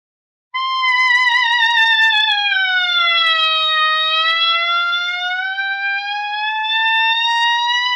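A clarinet mouthpiece fitted with a bamboo reed is blown on its own, off the instrument, giving one loud, sustained, buzzy tone of about seven seconds that wavers, sags in pitch and slowly climbs back.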